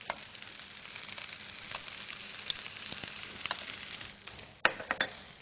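Potatoes in a pot over a lowered flame hiss and sizzle softly and steadily while a spoon stirs them, with a few sharper clinks and scrapes against the pot near the end.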